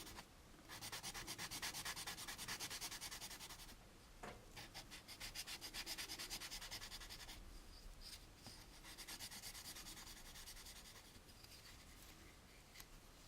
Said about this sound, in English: And again, you can do the cross sanding here.